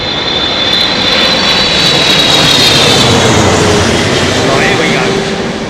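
A jet airliner on approach to land in gusty wind at Heathrow Airport roars loudly and steadily close by, its engine whine rising and falling, while someone speaks briefly over it.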